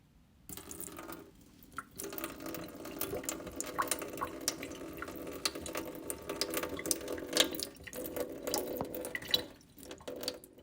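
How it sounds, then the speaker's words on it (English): Water is poured out of a cup of instant noodles, a thin trickling and splashing stream at close range with a brief pause near the start, heard alone without talk. "First, we're gonna pour out the water."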